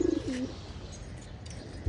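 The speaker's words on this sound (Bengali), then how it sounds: "খাকি কবুতরটা।" A khaki pigeon coos: a couple of short, soft, low cooing notes close by at the start, then quiet room background.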